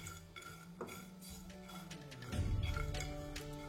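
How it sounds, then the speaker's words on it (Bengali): Whole spices are dry roasted and stirred in a pan over a medium flame, with quiet clinks and scrapes of a metal utensil that grow a little busier toward the end. "তারপর ফ্লেমটাকে মিডিয়াম রেখে এই সব কিছুকে ভালো করে একবার ড্রাই রোস্ট করে নেবো।"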